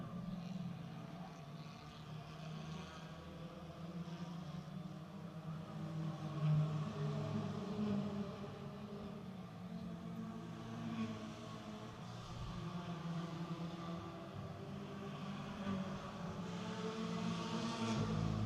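Mini stock race cars lap an oval track at Redwood Acres Raceway during a main event, their engines a continuous distant roar that swells slightly as the pack comes out of turn two.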